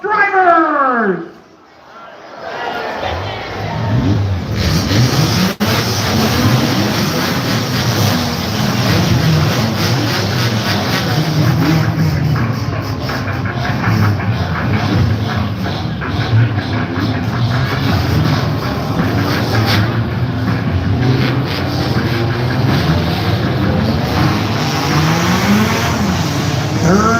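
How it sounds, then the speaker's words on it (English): A field of Hornet-class race cars fires up for their main event, a loud dense blend of many engines rumbling and revving continuously after a brief quiet start, with a voice heard over the noise. "gonna need your help again to get all of these Hornets fired and rolling for their main event"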